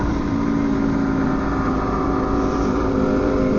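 A loud straight-piped motorcycle engine roars during a downtown street-bike group ride, a steady continuous drone under wind noise from riding, with no talking heard.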